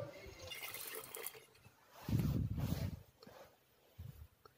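Running water splashes in a kitchen sink as vegetables are washed, with intermittent gurgling bursts, loudest midway, with faint background movement.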